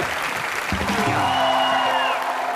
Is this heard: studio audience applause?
yes